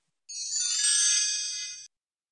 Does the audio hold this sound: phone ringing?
yes